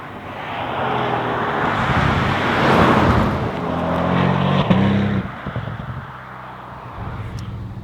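A 782 hp Porsche Panamera Turbo S driving by on the road, with a broad engine and tire roar that swells as it passes and then fades into lighter traffic noise.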